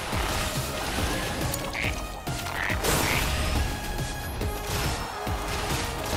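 Croaking from a frog in Final Fantasy VII Rebirth, a dense, continuous rasping chorus that fills the scene loudly alongside game effects, with no talk over it.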